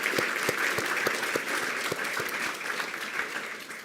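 Audience at a school district board meeting applauding orchestra students who competed at state, with steady, dense clapping throughout and a few sharper individual claps standing out.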